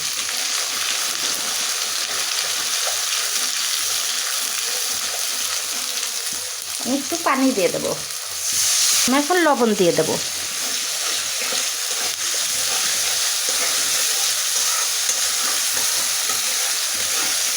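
Ginger, garlic and ground chili, turmeric, cumin and coriander sizzle in a pan for a thin chicken and potato curry, a constant frying hiss with stirring scrapes midway while a voice talks over it.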